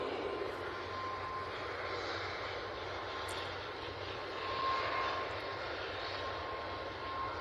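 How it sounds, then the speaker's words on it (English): An EasyJet airliner accelerating on its takeoff roll gives a steady distant jet roar with a faint whine, swelling slightly midway, heard alone at low level. "The EasyJet to Grotti is on the roll."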